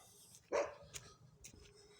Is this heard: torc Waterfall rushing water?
no